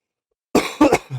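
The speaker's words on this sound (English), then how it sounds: "Excuse the cough." A man gives a short, close cough with a couple of sharp bursts and a brief throat-clearing rasp at the end, heard alone after silence; he is fighting off a cold and sounds nasally.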